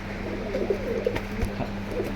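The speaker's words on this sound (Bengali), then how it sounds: "একদম কবুতর জগতের সেরা কবুতর দিছি দেখেন এই যে কবুতর নর দেখেন" A male pigeon from a seller's collection coos softly in a few low, muffled phrases against a constant background hum.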